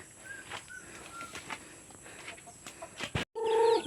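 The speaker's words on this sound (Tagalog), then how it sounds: "Yan ang mga manok namin." Farmyard chickens on a rural crop farm cluck in short, soft bursts close by, with a brief wing flutter and a louder squawk near the end.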